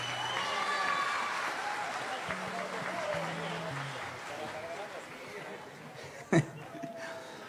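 Audience applause at a live Ayacuchan music show in Peru, a crowd clapping for a performer under a host's voice and background music, with a sharp loud burst near the end.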